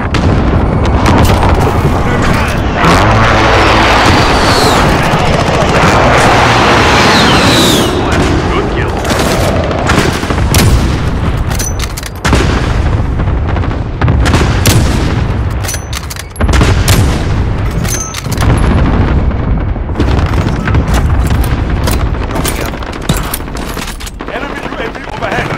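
A called-in artillery strike pounds the ground in Call of Duty: Modern Warfare, a loud, sustained barrage of booming blasts and rattling gunfire that continues almost without pause.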